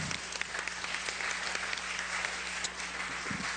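An audience claps steadily after a speech on reparations, a full, even wash of applause with occasional louder claps and a faint low hum beneath.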